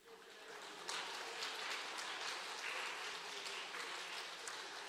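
A church congregation claps together in celebration, a dense, even patter of many hands, quiet and sustained throughout with no voices.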